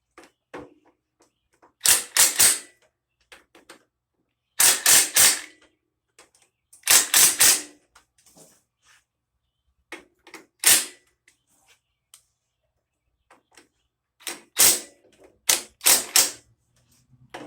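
Ratchet clicking in short bursts while head gasket bolts on a Briggs & Stratton engine from a John Deere LA100 riding mower are tightened a little at a time, each burst a quick run of close, sharp ratcheting with pauses between.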